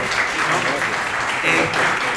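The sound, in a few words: audience applause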